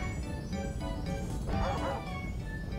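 A dog barking in the video game Super Mario Galaxy 2, short yapping barks at moderate level over steady game music and noise.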